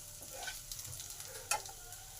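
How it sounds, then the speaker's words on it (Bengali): Whole cumin, dried chilli and ginger sizzle quietly in a hot pan, a steady soft frying hiss with a few stirring clicks, close and faint. "এবার এই লঙ্কা, জিরে আর আদাটাকে একটু ভালো করে ভেজে নেব।"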